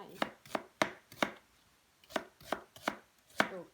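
Onions being chopped for Japanese curry give about nine crisp knife strikes on a board, close and fairly evenly spaced with short pauses.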